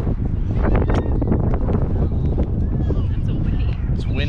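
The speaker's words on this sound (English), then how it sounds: "It's a windy one." Strong wind buffets the microphone outdoors on a mild, warm day, a steady low roar that runs the whole time with faint voices mixed underneath.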